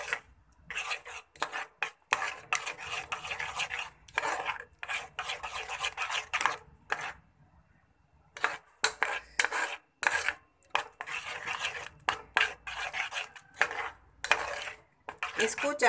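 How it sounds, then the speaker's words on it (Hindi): Apple jam cooking in a pan is stirred with a spoon, giving repeated scraping and clinking strokes in close bursts with brief pauses between them. "इसको चलाते रहेंगे और पकाएंगे।"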